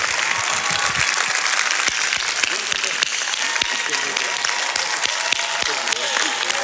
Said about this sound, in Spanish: vamos a demostrar realmente ese ánimo para recibir con fuertísimos aplausos a John C. Maxwell